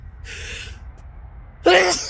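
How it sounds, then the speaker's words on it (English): A hay fever sneeze, a soft indrawn breath followed by one sharp, loud, close burst, alone with no talk. "I'm gonna sneeze again"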